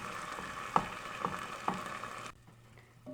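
Vegetables sautéing in a pan with peeled roasted tomatoes for a vegan pumpkin-black bean soup: a soft, steady sizzle with three sharp ticks of a utensil, then it suddenly drops away to near silence.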